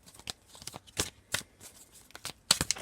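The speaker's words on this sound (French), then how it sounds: "Alors on va prendre une carte du Tarot Vision" A Tarot Vision deck, modeled on the Tarot de Marseille, is shuffled by hand: a close run of crisp, papery riffles and flicks in uneven bursts, with one louder snap near the end and no talking.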